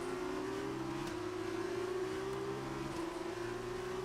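A Formula 2 race car engine in the F1 2019 racing game, at the Austrian GP, holds a steady, sustained high drone with gradually climbing pitch, loud and continuous throughout with no talk.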